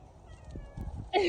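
A cat gives a single short, sharp meow at the very end, close and fairly loud, after a moment of rustling and handling noise.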